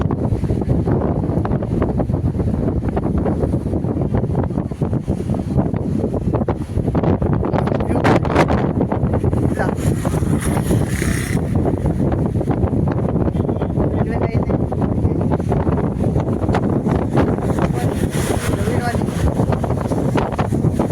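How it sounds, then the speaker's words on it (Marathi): Strong wind whips across the seashore at the southern tip of India, a loud continuous buffeting roar against the microphone with gusts surging and fading. Someone speaks under the wind noise. "खूप वारं सुटले."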